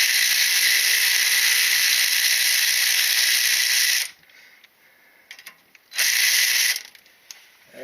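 A ratchet loosens a V-band clamp on a muffler, with a long run of fast, close metallic clicking, a pause with faint handling noises, then a second short burst of clicks.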